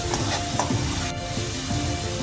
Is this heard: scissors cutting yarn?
no